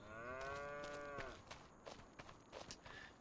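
A cow in Farming Simulator 25 gives one long, loud, harmonic moo, followed by scattered livestock footsteps and shuffling noises in the pasture.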